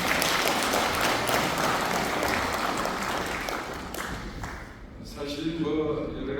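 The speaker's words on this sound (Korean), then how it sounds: "박수 한번 보내주시기 바랍니다" A lecture audience at a humanities talk for a regional hometown association breaks into dense, steady applause for about four seconds, then it fades as a voice begins speaking.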